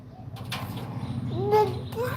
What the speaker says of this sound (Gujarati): કબૂતર ચાઈ ગયું